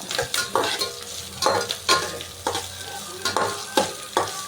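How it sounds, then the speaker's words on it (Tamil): Onions and curry leaves sauté in a pan for a Tamil fish curry, with a steady close sizzle and a series of rhythmic spoon scrapes and stirs, about eight strokes, and no talking. "வெங்காயம் போட்டாச்சு நல்லா வதங்கட்டும்"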